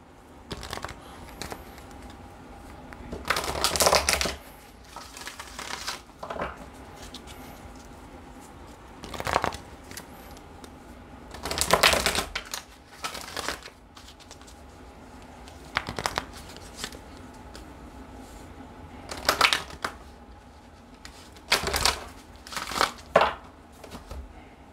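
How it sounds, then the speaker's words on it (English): Oracle cards are shuffled and drawn in repeated short bursts of riffling and crinkly rustling, close and fairly quiet, with soft gaps between each round and no talking. "Let's go ahead and pull some oracle messages."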